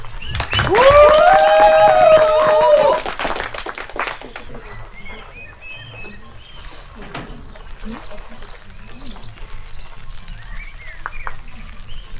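Applause from spectators at a 3D archery match in Slovakia, a soft patter of clapping under a sustained background, following a short loud tonal jingle at the start.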